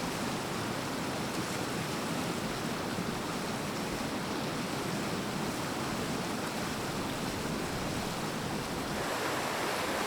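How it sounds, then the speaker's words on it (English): The Savage River in Denali National Park, Alaska, rushes past in a steady, broadband roar of flowing water, close and constant throughout, with no voices over it. "Just enjoying the river some more."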